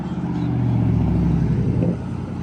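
A 1992 Ferrari Testarossa 512 TR arrives with a steady, fairly loud low engine drone that swells slightly before easing off near the end, heard alone.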